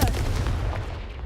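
A Confringo blasting spell goes off in the Hogwarts Legacy video game, one loud, deep boom with a rumbling tail that fades over about a second, with no one talking.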